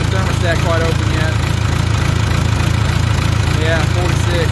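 A Case 580K backhoe's engine idles steadily, still warming up before a thermostat replacement, with a constant low rumble throughout; a voice talks over it.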